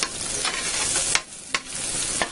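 Margarine melting slowly in a pan over low heat gives a soft, steady sizzle, broken by a few sharp scrapes of stirring.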